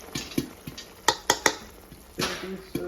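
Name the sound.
stirring baking soda into caramel in a pan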